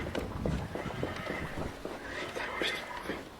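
A child's rocking horse toy gives off neighing, whinny-like noises mixed with soft clip-clop sounds, fairly close and steady, while people whisper and talk over it.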